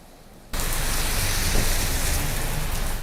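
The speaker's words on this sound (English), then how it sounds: "This consistent downpour of rain" A heavy, steady rain downpour during a news weather report in Fort Smith starts abruptly and continues as a dense, loud hiss with no voices.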